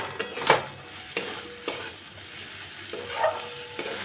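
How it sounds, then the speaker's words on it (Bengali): Spice masala being stir-fried in a pan for soybean curry, with a few sharp spatula scrapes and clinks standing out over a soft, steady background sizzle. "সামান্য একটু জল দিচ্ছি, তাহলে মশলাটা ভালোভাবে কষানো যাবে"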